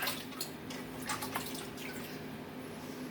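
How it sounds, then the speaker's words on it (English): Hands and a spoon washed under a running kitchen tap, a steady close stream of water with soft splashes and drips, no talking. "Let me wash my hand and wash the spoon."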